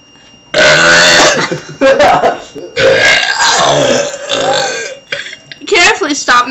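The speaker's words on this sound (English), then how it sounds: "You've been burping for minutes." A child burps loudly and repeatedly up close, with long drawn-out belches broken by brief pauses and a few shorter bursts toward the end.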